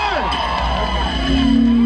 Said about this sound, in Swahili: Wapi kelele ya Kajim?